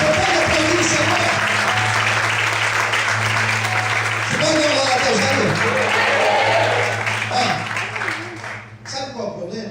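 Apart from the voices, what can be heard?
church congregation applauding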